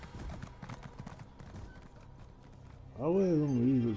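A horse in the video game The Elder Scrolls Online clip-clops steadily while someone talks over the hoofbeats. The horse then lets out a loud, wavering neigh near the end.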